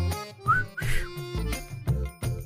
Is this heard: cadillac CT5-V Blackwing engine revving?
no